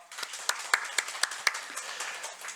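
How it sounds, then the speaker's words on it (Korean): A church congregation claps in scattered, sharp irregular bursts fading out after a couple of seconds, with faint murmuring underneath. "우리 격려 박수하겠습니다."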